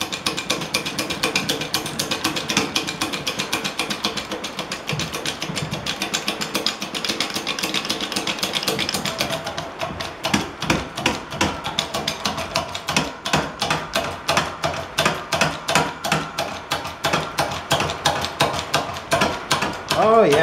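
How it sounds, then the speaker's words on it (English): A Harbor Freight 20-ton pump-action hydraulic jack on a shop press: continuous mechanical rattling in the first half, then a run of steady, rhythmic ratcheting clanks from each pump stroke, close by. "the old Harbor Freight pump action 20-ton, which does just fine if you're willing to wear out your elbow pumping"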